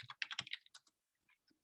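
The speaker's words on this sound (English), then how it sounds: "So of course I'm typing fast." Fast typing on a computer keyboard, a quick burst of crisp clicking keystrokes followed by a few scattered, softer taps, close and alone.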